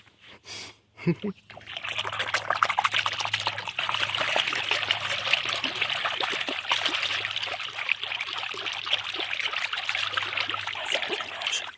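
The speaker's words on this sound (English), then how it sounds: "gonna make some cool water sounds." A stick stirs shallow creek water outdoors, producing a close, continuous trickling and gurgling with small splashes, preceded by a brief knock at the start.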